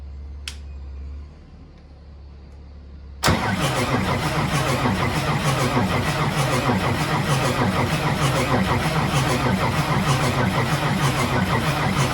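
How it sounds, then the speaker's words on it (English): A Ford 8700 tractor's 270hp diesel engine cranks briefly, then fires abruptly and settles into a loud, steady, close-up running rumble with a dense rhythmic knock that continues without letup. "It's definitely a faster spinning motor, isn't it?"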